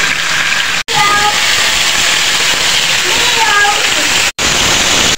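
Chicken pieces sizzle in hot oil over a medium flame for a spicy chicken dish, making a loud, close, rain-like crackle that barely changes, with a voice talking over it and two brief cutouts.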